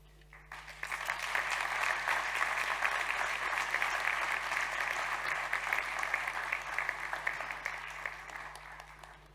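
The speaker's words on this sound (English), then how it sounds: "I did tell my staff to start clapping there" An audience at an energy efficiency conference's opening session breaks into applause that swells quickly and holds steady, a dense wash of clapping from a sizable crowd before tapering slightly.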